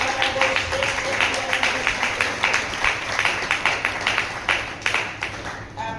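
A church congregation claps in praise of God, a dense, steady patter of many hands lasting throughout, moderately loud with faint crowd murmur beneath.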